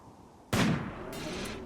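A sniper rifle firing in the Rimworld video game, heard as one sharp, loud shot followed by a sustained burst of noise with a second hiss-like layer rising partway through.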